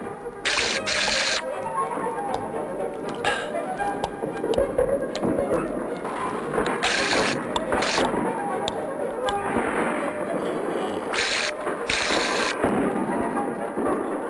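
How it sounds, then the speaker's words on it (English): Ninepins game in a storybook scene, a dense, loud rumble of rolling and crashing like thunder with sharp cracks recurring through the whole stretch. "The game of 9 pins grew louder and louder"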